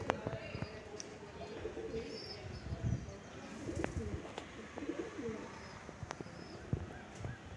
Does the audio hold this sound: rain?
no